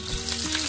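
Garlic sautéing in a pan, a loud continuous sizzle with stirring scrapes, brief and close.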